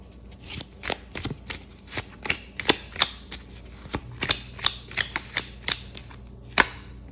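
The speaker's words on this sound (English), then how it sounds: "I do want to pull a few more oracle cards here" Oracle cards are shuffled by hand close up, a quick run of soft, papery riffles and taps in an uneven rhythm, with a faint hum underneath.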